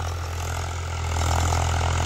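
A Swaraj 744 XT tractor, new model with an HLM gearbox and a rotavator, runs at a steady close-up diesel idle, a low throbbing drone that swells slightly in the second half, with no talk.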